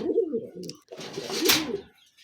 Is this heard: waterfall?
no